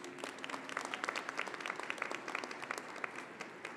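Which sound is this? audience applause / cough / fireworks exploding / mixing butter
audience applause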